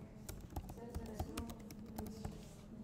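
A computer keyboard is typed on to enter a git config command. The keystrokes come as quick, irregular clicks and taps, close and fairly crisp, with a low background hum throughout.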